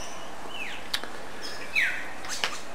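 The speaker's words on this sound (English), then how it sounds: "just sitting out here having a cup of coffee, listening to the birds whistle" Birds whistle and chirp on a tropical North Queensland morning, with a few clear, moderately near calls and squawks spaced across a quiet background.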